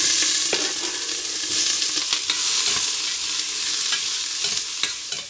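Chopped onion hits hot cooking oil in a pot, a loud close crackling sizzle with intermittent stirring scrapes that eases slightly toward the end.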